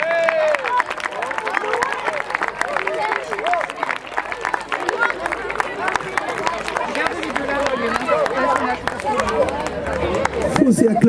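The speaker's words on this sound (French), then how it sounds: "On applaudit très fort" An audience at a trophy ceremony for a town-hall football tournament in Paris breaks into sustained applause, clapping and cheering loudly for about eleven seconds, with crowd chatter and voices mixed through.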